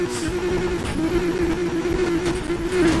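A steady car engine in the video game Need for Speed Heat drones at high revs, a strong low hum with a constant whine above it, continuous and loud throughout.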